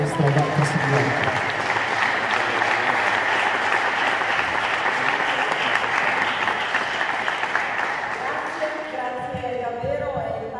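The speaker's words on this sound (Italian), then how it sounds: "un applauso alla maestra Dacca Sigliani." Audience applause for a teacher at an annual convention hall event, sustained loud clapping from a large seated crowd, fading near the end as a voice begins talking.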